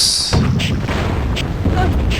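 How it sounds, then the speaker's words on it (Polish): A game explosion in the shooter Rise of the Triad booms loudly through a short burst, with a sharp blast onset followed by rumbling, crackling decay and smaller pops. "wybuch mnie zrani, wiedziałem, że tak będzie"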